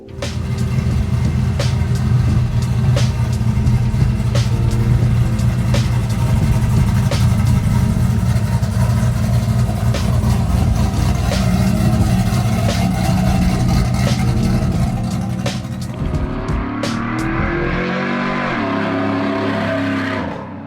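A cammed, built 6.2 liter V8 in a Chevy Avalanche truck on 24-inch wheels runs loud and close with a lumpy, choppy idle and repeated throttle blips, then settles into a lower, uneven idle.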